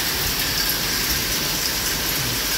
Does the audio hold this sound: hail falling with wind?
yes